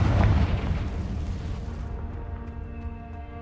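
A booming fire-spell blast from the Confringo charm in the game Hogwarts Legacy, a heavy low burst at the start that rolls off into a fading rumble with a faint ringing tail.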